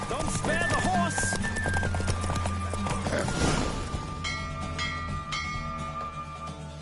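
Galloping horse hooves in a PS5 video game, rapid clip-clop close and loud for most of the stretch, fading out near the end under music with a few bell-like tones.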